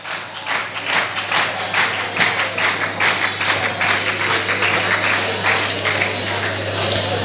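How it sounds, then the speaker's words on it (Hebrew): An audience claps at a religious lecture, a steady, dense patter of many hands sustained for several seconds under a low constant hum, with no voices over it. "מגיע מחיאות כפיים"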